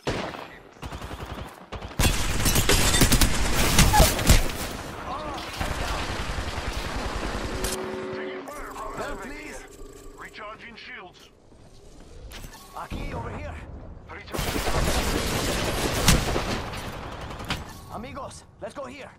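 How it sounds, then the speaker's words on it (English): Rapid gunfire bursts from Apex Legends Arenas, loud and dense in two long stretches with a quieter gap between, with game sounds and a voice talking over it. "Hey, I'm getting shot."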